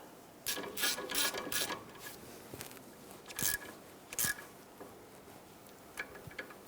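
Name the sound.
hand ratchet tightening exhaust manifold bolts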